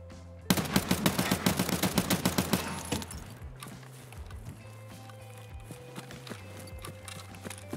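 Rapid automatic gunfire in the video game Escape from Tarkov, a fast burst of about a dozen close, loud shots, then quieter ambient noise with a low hum.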